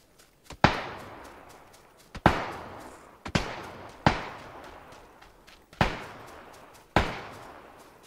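Gunfire in PUBG (PlayerUnknown's Battlegrounds): six sharp single shots ring out at irregular intervals, each with a decaying echo tail, and no voices are heard.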